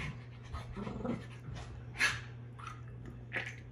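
Dogs pant close by in quick, breathy bursts, with a few sharper huffs and faint mouth sounds over a low steady hum, and no talking.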